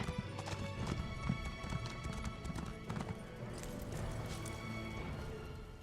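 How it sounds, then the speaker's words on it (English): Horse hooves clip-clop steadily at a gallop in a fantasy video game, with an occasional whinny, close and continuous over faint game ambience. "And my horse's speed is greater than my own."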